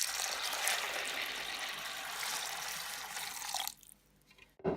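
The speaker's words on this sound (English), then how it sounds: "Basically we tip some whole wheat grains into that dish, cover it with water" Water poured from a tap or jug over whole wheat grains in a dish, a steady close splashing pour that cuts off near the end, followed by a brief drip or clatter.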